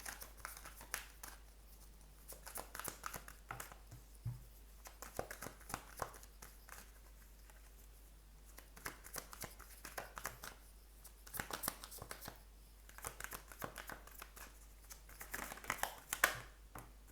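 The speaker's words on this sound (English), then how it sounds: "I'm going to shuffle the cards first" Tarot cards being shuffled by hand, soft riffling and sliding bursts that come in irregular clusters with brief quiet gaps, close and fairly faint.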